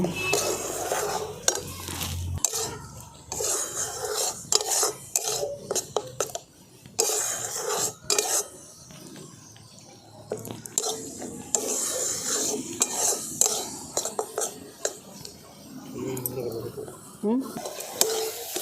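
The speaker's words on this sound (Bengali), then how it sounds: "এটা ঠিক এবারে শুকনো শুকনো হওয়া পর্যন্ত আমাদেরকে এটা ক্রমাগত নেড়ে যেতে হবে।" Jaggery melting in a pan for rice-flour modak is stirred continuously, giving steady close scraping and rasping of a spoon against the pan with brief pauses throughout.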